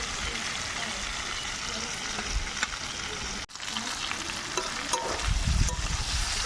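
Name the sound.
vegetables and spice paste sautéing in a pan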